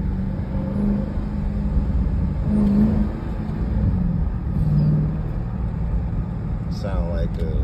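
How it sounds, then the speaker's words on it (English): A 2021 Dodge Durango SRT revs its engine, its intake giving a loud, steady low rumble with a slight rise and fall throughout. A voice seems to come in briefly near the end. "you know, that's the sound of intakes, what intakes make."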